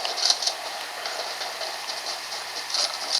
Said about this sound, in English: The Legion Go also has the loudest fan out of the bunch.